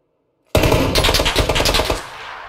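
Rapid automatic gunfire in a battle-royale video game match erupts suddenly and loudly, a dense burst of close shots lasting about a second and a half before cutting off into a fading echo.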